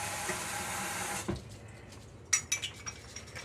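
Water runs steadily from a kitchen tap for about a second before shutting off, followed by a few light clinks of dishes or utensils nearby while making fresh pretzels.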